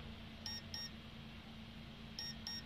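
Two pairs of short, high electronic beeps from a drone BLDC motor's controller, a double chirp near the start and another near the end, over a steady low hum.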